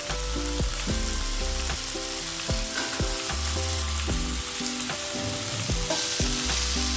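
Spices with cloves, pepper and poppy seeds fry alongside tomatoes for a village-style mutton sambar, a steady close sizzle running throughout with repeated scraping stirs and clanks of a spoon against the pan.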